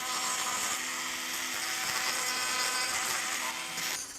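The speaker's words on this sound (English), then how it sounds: "So I can, with the burr, I can get back on the back side of the occlusal surface." A dental burr grinds down a horse's teeth, a steady, loud, close high-pitched whine that runs unbroken for about four seconds before tapering off, no voices.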